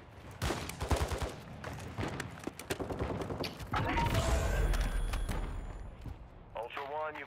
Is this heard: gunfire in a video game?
yes